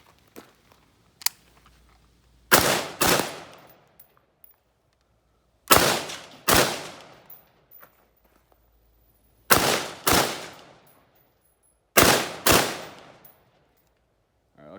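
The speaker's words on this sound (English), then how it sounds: "I'm gonna put a controlled pair on each one and see how accurate it is" XM16E1 rifle firing controlled pairs at an outdoor range: four loud, close double shots, each pair two sharp cracks in quick succession with a short decaying echo, separated by several seconds of near silence.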